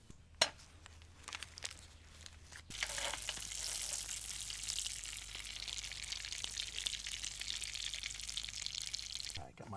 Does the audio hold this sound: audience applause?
no